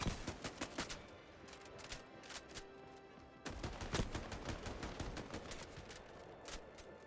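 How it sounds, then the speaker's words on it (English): Rapid volleys of automatic gunfire crackle in the video game Highguard, coming in dense bursts with a brief lull midway, fairly quiet overall. "Opening fire."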